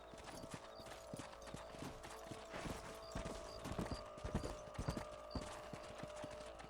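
Horse hooves clip-clop steadily as a rider travels across ranch land in Red Dead Redemption, an even rhythmic trotting beat repeating close by throughout, with faint tack jingles and no talking.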